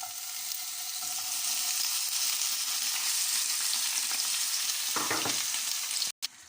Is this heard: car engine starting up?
no